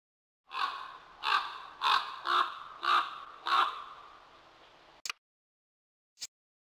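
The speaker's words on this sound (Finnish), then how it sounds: "Korppi." A common raven gives six hoarse, resonant croaks at an even, unhurried pace, close and clear against silence, followed by two brief clicks.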